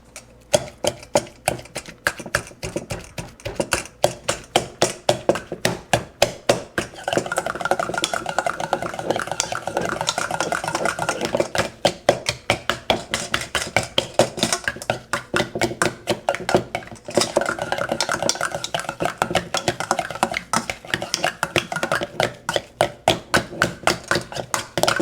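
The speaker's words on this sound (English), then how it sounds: "And now we mash." Pumpkin and potatoes with a little butter being mashed in a pot for gluten-free gnocchi, a steady run of quick rhythmic clacks and squelches from the masher, close and continuous, pausing briefly before resuming.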